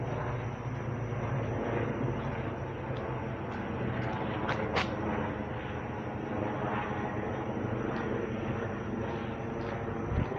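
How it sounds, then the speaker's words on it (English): A steady, muffled whirring roar of a helicopter overhead under a clear sky, continuous and moderately loud with some wind noise, no talking. "Helicopter."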